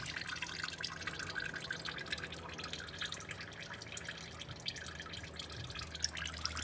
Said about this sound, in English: All right, so the fluid draining